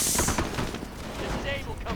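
A Pak anti-tank gun fires in a real-time strategy video game amid continuous battle noise and gunfire, with a commentator talking over the din.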